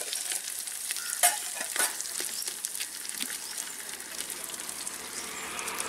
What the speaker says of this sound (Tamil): இப்போ கடுகெல்லாம் பொரிஞ்சிடுச்சு